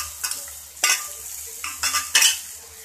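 Chopped onion, green chili and tomato being sautéed in a pan, with a soft background sizzle broken by several sharp scraping stirs of a spoon against the pan, close and clear.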